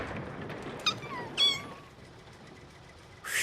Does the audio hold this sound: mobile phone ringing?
no